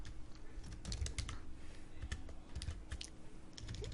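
Rapid, uneven keystrokes on a computer keyboard clatter up close in short bursts over a low steady hum, with no voices.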